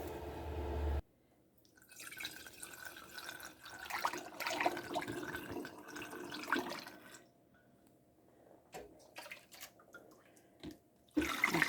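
Homemade almond milk pours through a funnel from a small container into sterilized jars in bursts of close splashing and trickling, with short pauses and drips between pours.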